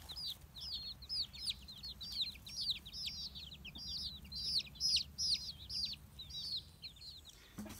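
Young pullet chickens in a coop give a run of quick, high peeps and soft clucks in irregular bursts. The calls are fairly faint and close, over a low background hum, with no talking.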